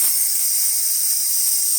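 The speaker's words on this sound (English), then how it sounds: "it starts steaming really well" The steam wand of a DeLonghi Dinamica espresso machine, freshly serviced, blows steam: a loud, steady, high-pitched hiss that runs continuously without a break, close up and alone.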